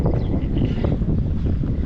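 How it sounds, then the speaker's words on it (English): Strong wind gusts buffet the microphone outdoors on a dairy farm, a loud, close, rumbling roar with uneven surges and no speech. "This is an unusual windy day."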